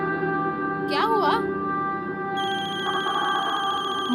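A telephone rings with a repeated electronic ringtone through a domestic scene, with voices, a brief swooping tone and background music-like layers around it.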